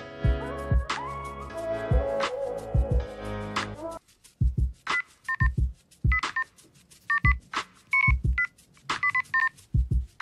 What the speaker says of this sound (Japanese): Please enter the telephone number you wish to call.